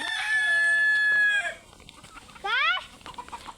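Two loud, close fighter rooster crows, the first long and drawn out, the second shorter, with quiet background between them.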